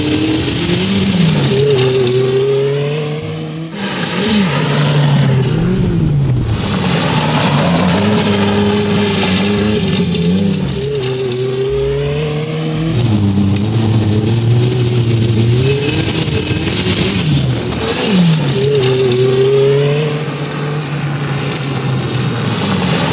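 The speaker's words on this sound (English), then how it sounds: "we're driving a 1984 Renault R5 Maxi Turbo" A 1984 Renault R5 Maxi Turbo rally car engine revs hard while driving, climbing and falling through repeated loud gear pulls with brief dips at shifts, close and continuous with no talking.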